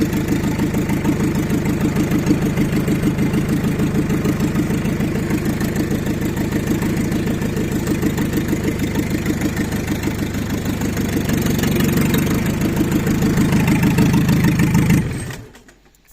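A homemade four-wheel-drive tractor engine idles with a steady, loud mechanical chug and a rhythmic beat that holds nearly constant before the engine cuts off abruptly near the end.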